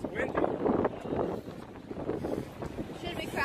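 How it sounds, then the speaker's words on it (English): Strong outdoor wind buffets and rumbles against the microphone in uneven gusts, while a person talks beneath the roar. "It's really windy."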